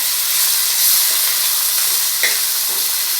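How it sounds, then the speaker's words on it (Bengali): Fish frying in a pan, cooked to a crisp, gives off a steady, even sizzle and hiss that holds close and fairly loud from start to finish, with a few brief pops and spits breaking through. "ভাজা করছি মাছ"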